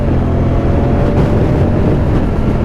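A Moto Guzzi Stelvio motorcycle engine runs with a loud, steady rumble and roaring wind buffeting throughout while riding.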